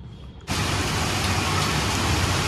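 Heavy monsoon downpour pours outside a home balcony during a power cut, starting abruptly as a dense, steady roar of rain that stays loud and unbroken to the end.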